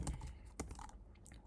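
Quick, soft clicks of a computer keyboard as an SSH login command is typed, a short uneven burst of keystrokes heard alone and quietly.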